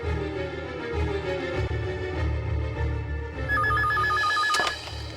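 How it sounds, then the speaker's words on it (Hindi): A telephone rings with a rapid warbling electronic tone, starting partway through over a low background hum. "नंदू, जैसी को फोन कर जल्दी।"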